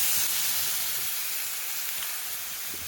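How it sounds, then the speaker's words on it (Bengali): Water poured into a hot pan of eggplant and potato curry gives a steady hissing sizzle that starts strong and slowly fades over a few seconds, close and fairly quiet, with no voices. "তরকারিটা আমি ভালোভাবে কষাই করে নিয়েছি, এবার জল ঢেলে দেবো।"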